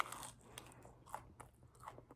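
Crunchy bites and chewing on a homemade sourdough bagel with a salty crust, close and clear, a run of crisp crunches and softer chews with no talking.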